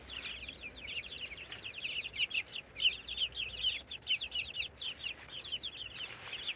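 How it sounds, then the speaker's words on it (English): Many chicks peep in a steady, busy chatter beside a contented mother hen, close by and alone with no talk, over a low outdoor rumble. "Got little chickies here. A very happy mum."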